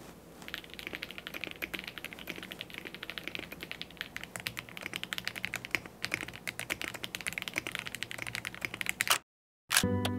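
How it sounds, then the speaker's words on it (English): Rapid, steady typing on a dalgona-themed mechanical keyboard with crisp clacky keystrokes, close and continuous, briefly cutting out near the end before resuming. "Let me share with you how the keyboard sounds, and let's do a quick typing test."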